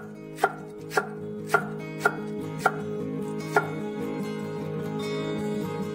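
A knife thinly slices cabbage on a board, six sharp chops at an even pace, then quieter sounds with no further cuts.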